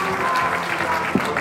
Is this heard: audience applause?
yes